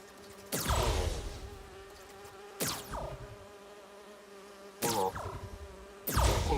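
Buzzing from virtual bee drones in Spider-Man 2 sweeps past in four separate loud, near passes, each rising sharply and trailing off over a low steady background.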